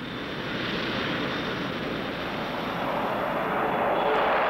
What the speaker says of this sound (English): the YB-52, Boeing's new big jet bomber,